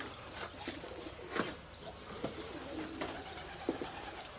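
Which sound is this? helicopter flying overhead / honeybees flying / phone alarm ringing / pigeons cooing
pigeons cooing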